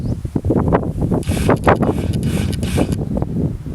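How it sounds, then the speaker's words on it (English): Gusty wind buffets the microphone with a steady low rumble, rising and falling in loud surges throughout. "but it's like I said, it's windy."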